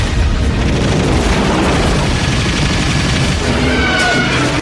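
Military gunfire and explosions from a Godzilla film roar on without a break, loud and dense, with booms and rapid bursts piling over one another.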